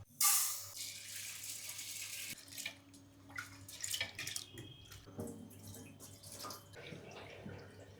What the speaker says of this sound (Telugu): 100 గ్రాముల కందిపప్పు కడిగేద్దాం